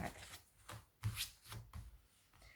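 A deck of tarot cards is shuffled close by, producing a rhythmic series of soft papery riffles and rubs, roughly one every quarter second, with no talking.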